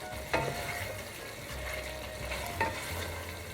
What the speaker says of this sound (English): Let the masala and mutton cook well and absorb the flavor.